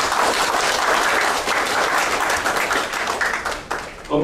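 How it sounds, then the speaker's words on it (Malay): Loud, sustained applause fills the hall at an excellent service award ceremony, a dense wash of many hands clapping without a break from start to finish. "Kita bagi satu tepukan."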